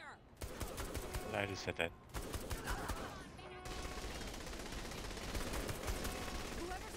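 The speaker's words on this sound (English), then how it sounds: "Watch for snipers. They have snipers in here!" Gunfire in the Saints Row the Third video game, with snipers in the area: repeated sharp shots and rattling bursts over a continuous background of game noise, with voices talking at points.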